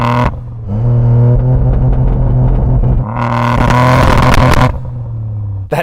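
A Toyota GR Yaris three-cylinder engine, tuned past 600 bhp, revs hard and holds loud and close, dips briefly, then climbs again in a raspy, rally-car-like surge before cutting off.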